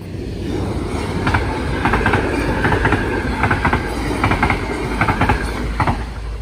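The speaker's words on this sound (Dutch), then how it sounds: "De trein komt zo." A train pulls into Heiloo station with a loud, steady rolling roar, rhythmic clickety-clack of wheels over rail joints and brief bursts of metallic squeal, heard close for several seconds without any talking.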